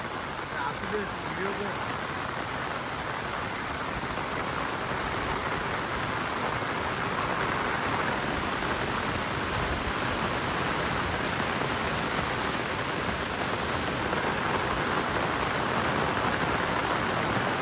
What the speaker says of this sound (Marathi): पाऊस पण लय जोरात आला रे.